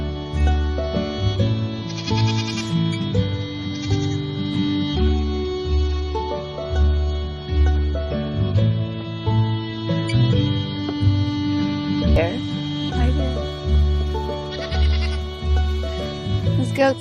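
A goat bleats again and again in long, wavering cries, with a steady tonal background running underneath.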